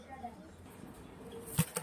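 A couple of quick pigeon wing flutters in a quiet space, the first near the end and a fainter second one just after.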